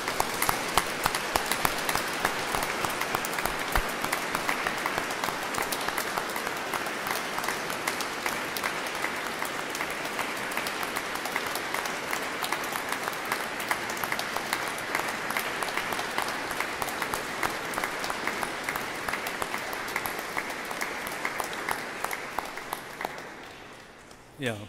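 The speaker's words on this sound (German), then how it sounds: "einen herzlichen Applaus da zur Empore hinauf" A large congregation applauds in a reverberant church during a Mass with choir and orchestra, sustained dense clapping that continues evenly for a long stretch before tapering off at the end.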